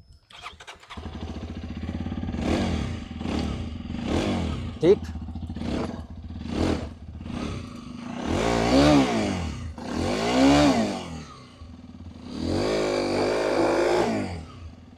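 A Hero Xpulse 210 motorcycle cranks and fires up, then idles with a chugging thump before several loud, rising revs; someone speaks briefly at the start.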